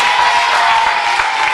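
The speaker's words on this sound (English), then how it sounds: "Round of applause." Studio audience at Granada Studios applauds in a loud, continuous burst of dense clapping with a faint crowd murmur, holding steady throughout.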